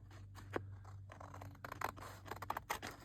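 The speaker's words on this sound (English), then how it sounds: "I'm going to go ahead and cut right up to the edge" Scissors snip paper while trimming pages for a handmade blue journal, giving a series of short, crisp cuts that get quicker and more clustered toward the end, close by and fairly quiet, with no talking.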